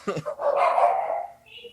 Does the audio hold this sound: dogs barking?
yes